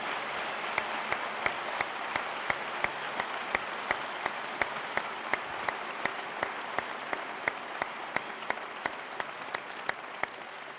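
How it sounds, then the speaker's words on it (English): An audience claps steadily for about ten seconds, a dense even applause at moderate volume with a few sharper individual claps standing out. "A round of applause for both gentlemen"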